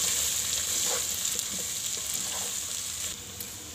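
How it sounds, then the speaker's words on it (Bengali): Jackfruit seeds with okra, potato and dried small shrimp frying in a pan, a steady close sizzle with a few soft stirring clinks and no voices. "এটা আসলে ভালো ভাজা ভাজা হচ্ছে।"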